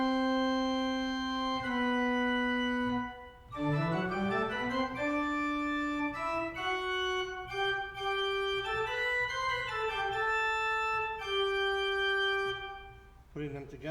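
The left hand on a pipe organ plays a canon imitating the chorale tune in the tenor range, from Distler's Toccata on Wachet auf, ruft uns die Stimme, Op. 8. A single clear melodic line of held and stepping notes follows a brief pause, with no talking.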